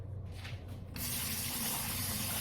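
Running water rinses ingredients for bopis, starting as a faint splashing trickle and then jumping to a strong, steady gushing stream for the rest.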